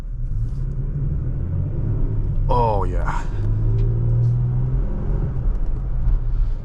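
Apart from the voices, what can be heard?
2023 Toyota Tacoma TRD Off Road truck engine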